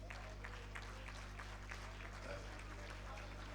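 Applause from a banquet audience at an awards dinner night, a faint steady patter of many clapping hands heard from a distance, with crowd murmur and voices mixed underneath.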